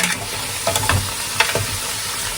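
Pork stew stirred in a pan gives a close, steady sizzle with a few soft scraping strokes of the spoon, brief and loud.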